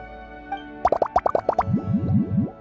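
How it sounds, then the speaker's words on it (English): Ingredients such as lizard tails, fish scales, mucus and slime condensate drop into a drink in the Genshin Impact video game: a quick run of about six bright plops, then a few softer, lower boings, with no talk. "I'm gonna add all the remaining ingredients. Lizard tails, fish scales, mucus, and the slime condensate."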